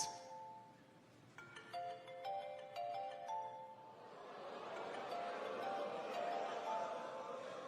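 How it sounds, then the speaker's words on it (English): A mobile phone rings in a stand-up comedy audience, a tinny repeating melodic tone that fades under rising crowd murmur and laughter. "Go on and answer your phone"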